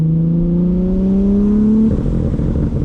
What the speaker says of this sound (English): he's already just loving the sound of the car and the blow-off valve